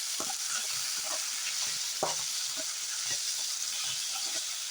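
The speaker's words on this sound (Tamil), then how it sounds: "நல்லா தக்காளி நல்லா வதக்கி," Tomatoes with a little salt sizzle and hiss steadily as they are sautéed and stirred in a pan, with scattered light scraping taps over the constant frying noise and no voices.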